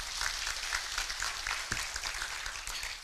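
Steady applause from a crowd, dense clapping filling the room without a break for a few seconds.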